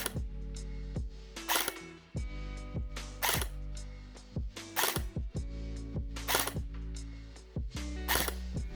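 A Krytac Kriss Vector airsoft AEG with a Krytac 30k motor fires in short bursts and single shots. Each shot gives a sharp mechanical crack over a whirring gearbox, repeating irregularly and close.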